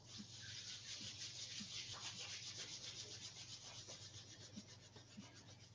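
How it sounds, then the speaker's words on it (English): Palms of the hands rubbed briskly together during a Shibashi qigong session, a soft, continuous dry swishing close to the mic with a faint steady hum beneath, no talking. "I'm going to rub the palms together."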